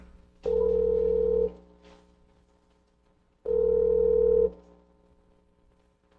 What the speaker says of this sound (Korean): 전화 연결해 부탁드려요